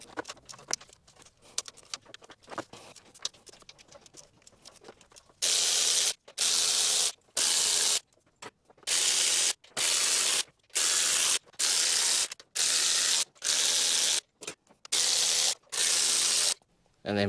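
MX5 valve cover bolts being cracked loose anti-clockwise in a spiral pattern, heard as a series of loud, sharp, hissing bursts in regular succession after a few seconds of quieter mechanical rattling.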